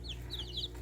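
Delaware meat chicks in a brooder give several high, bright peeping calls in quick succession, close by, over a steady low background hum.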